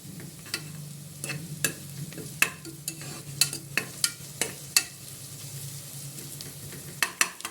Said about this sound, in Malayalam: ഒരു കുക്കർ അടുപ്പിൽ വെച്ച് അല്പം നെയ്യ് ഒഴിച്ച് അതിലേക്ക് അരിഞ്ഞു വെച്ചിരിക്കുന്ന സവാള ഇട്ട് ചെറുതായിട്ടൊന്ന് വഴറ്റി കൊടുക്കുക